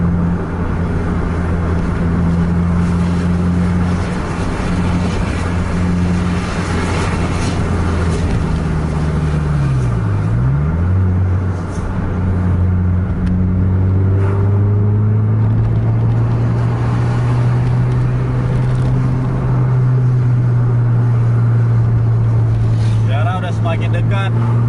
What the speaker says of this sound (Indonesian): Udah ngegas, dilepas, gas lagi dilepas.